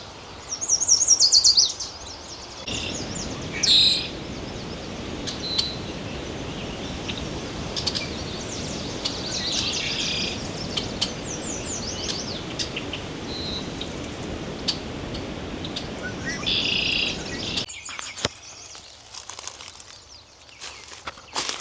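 Birds call during a birding field recording outdoors, with scattered high chirps and bursts of song over a steady background of rustling and footsteps, louder in short spells and quieter toward the end.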